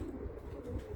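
A pigeon on a rooftop in Muscat, Oman gives a brief, soft, low coo close by, lasting about a second.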